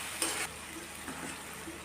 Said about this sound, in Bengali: তো এবার ভালো করে আমি সবগুলো উপকরণ একসঙ্গে ফ্রাই করে নেব।